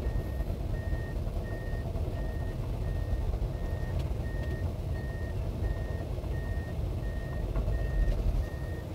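A tracked excavator rumbles forward with a heavy, steady diesel drone, while a clear, evenly spaced electronic alarm beeps over it throughout.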